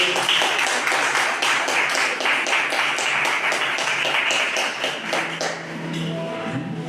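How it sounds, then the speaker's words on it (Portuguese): A church congregation claps together in praise, a brisk run of loud rhythmic hand claps that thins out near the end into a quieter room tone. "Palmas para o nosso Jesus."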